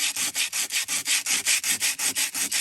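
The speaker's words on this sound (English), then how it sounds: "So starting by doing the sanding" Sandpaper rubs back and forth on a surface in quick, even strokes, about five per second, close and steady with no voices.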